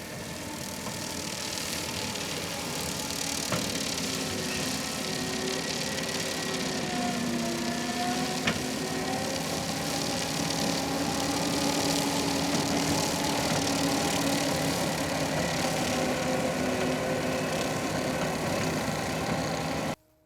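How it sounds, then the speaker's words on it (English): A Quick Attach Brush Buster industrial brush mower on a skid steer cuts super dense grass and vegetation, a loud, steady engine drone with high-speed blade whine holding level throughout, then cutting off abruptly. "the high tip speed of these mower blades really does a good clean cut of the grass"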